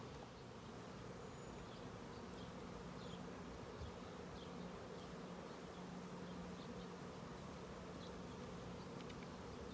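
Honey bees hum in a soft, steady, continuous buzz during a hive inspection, with individual bees droning past now and then close by. No one speaks.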